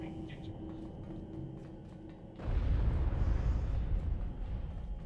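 In the video game Star Trek Online, a low hum gives way to a sudden deep boom, and a loud rumbling roar follows and carries on to the end.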